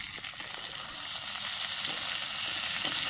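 Chopped okra frying with onions and green chillies in mustard oil, a close, continuous crackling sizzle with light spitting pops, steady and unbroken with no voices.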